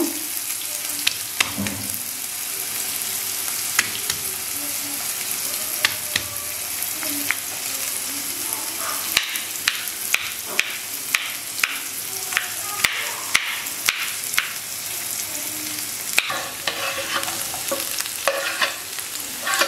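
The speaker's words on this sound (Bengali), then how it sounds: "আমি এর মধ্যে রসুনটা দিয়ে দিলাম। এবার সব কিছুকে আমি একটু হালকা বাদামি করে ভেজে নেব।" Garlic and chopped dried red chillies sizzle steadily in hot oil with chopped onion, a continuous close frying hiss broken by repeated sharp clicks and scrapes of a spoon stirring the pan.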